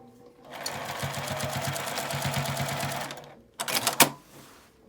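A sewing machine bastes a cord onto a large drawstring backpack-style gym bag, a close, steady rapid stitching run for about two seconds, then a pause and a short second burst.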